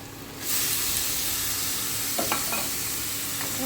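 Grated carrot fries in butter in a pan, a loud continuous sizzle that swells in after a quiet start, with a couple of brief scraping stirs.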